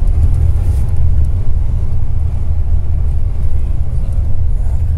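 Car driving fast along a street in Jordan, heard from inside as a loud, steady low road rumble and engine drone that fills the whole clip without pause.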